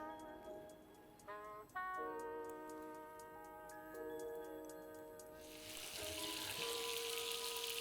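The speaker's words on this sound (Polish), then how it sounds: "Pokrojoną polędwicę wrzucamy na lekko rozgrzany tłuszcz." Sliced beef sirloin dropped into lightly heated fat. Light ticking and tonal background give way to a steady, bright sizzle that swells and holds through the final seconds, with no voices.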